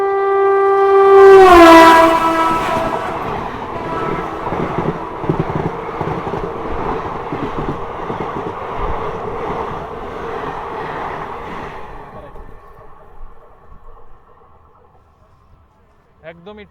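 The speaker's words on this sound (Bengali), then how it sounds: "এটা বোঝার জন্য যে ঠিক কোন ট্রেনটা পাস করলো" The Maa Tara Express, with LHB coaches, sounds a loud horn blast as it rushes past, then the clatter and rumble of its wagons roll on steadily before fading away near the end.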